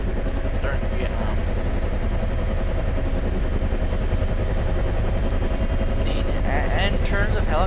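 Bell UH-1 Huey helicopter in a flight simulator game, its steady rotor and turbine drone running loud and continuous throughout, with faint voice-like tones near the end.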